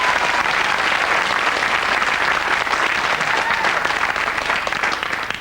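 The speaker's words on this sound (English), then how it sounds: "Give him a nice round of applause there." Studio audience on a 1989 UK television game show applauds steadily, a dense, even wash of clapping that holds at full strength throughout and tapers slightly only at the very end.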